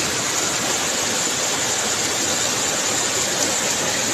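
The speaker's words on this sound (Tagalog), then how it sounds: "Kusog kayong uwan, kusog pa kayong baha." Heavy rain pours down with rushing floodwater beside a house in the early morning hours, a dense, loud, unbroken roar with no pauses throughout.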